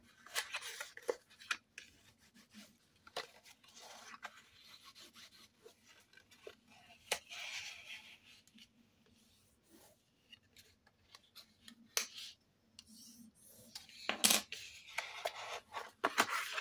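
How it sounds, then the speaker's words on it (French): A paper box for a Christmas market being creased along its folds: quiet, close scraping and rubbing strokes in irregular bursts, with a few sharper crisp rasps near the end, no voice. "On marque le pli de l'autre côté."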